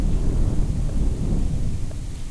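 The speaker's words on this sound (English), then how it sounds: "Oh, that lightning is very loud." Thunder from lightning in the video game Rise to Ruins rolls as a loud, continuous low rumble mixed with a rain-like hiss, with no voices.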